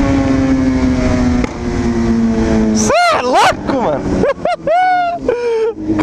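A Honda Hornet motorcycle engine holds a steady, loud drone, then gives way to sharp, wavering bursts while excited voices shout close by.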